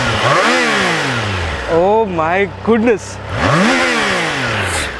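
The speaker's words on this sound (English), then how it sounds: "Now this motorcycle sounds the sweetest because of the inline 3 motor" A Triumph Tiger Sport 660 inline-three motorcycle revs close by in several sharp rising and falling blips, the pitch climbing and dropping with each throttle twist, while a person exclaims briefly during a gap.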